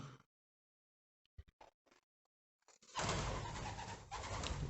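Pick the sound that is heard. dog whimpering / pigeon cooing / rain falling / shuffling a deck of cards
pigeon cooing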